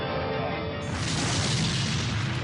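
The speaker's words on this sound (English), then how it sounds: "His number 2 engine was exploding into pieces." Jet engine exploding aboard Qantas flight QF32, a loud dense boom that swells into a sustained roaring blast with no pause.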